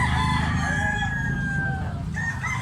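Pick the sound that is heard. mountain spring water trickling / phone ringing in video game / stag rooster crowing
stag rooster crowing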